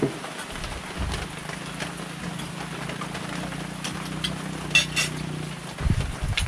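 Heavy rain pours down over rural farmland during tractor plowing, a steady broadband hiss with a low engine idling beneath it throughout, a few louder splashes near the end.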